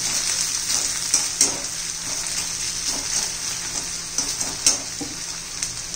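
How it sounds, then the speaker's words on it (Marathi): Onion and potato pieces frying in oil in a pan for tomato-potato poha, a steady close sizzle with occasional sharper crackles and stirring scrapes throughout, no talk. "बटाटे असल्यामुळे चांगले जरा व्यवस्थित भाजून घ्यायचे कांदा बटाटा"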